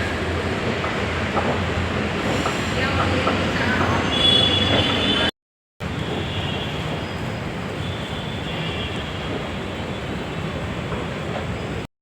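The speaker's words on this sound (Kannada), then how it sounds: "metro station" A metro train at a station fills the scene with a loud, continuous rumble of wheels and carriages and a faint high squeal, briefly cut to silence midway before the steady roar resumes.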